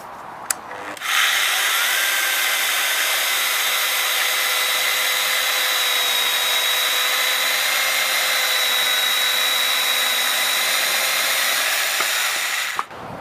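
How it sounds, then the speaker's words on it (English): A Univers SSU 200 sword saw cuts through timber, starting with a click, holding a loud, steady buzzing whine for about twelve seconds, then clicking off at the end. "If you notice, the sword saw will stop within 3 seconds."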